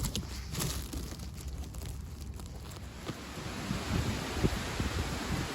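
Strong cold wind blowing outdoors while mushrooms are gathered in wind and rain, a steady rushing roar with gusty buffeting on the microphone and no voices.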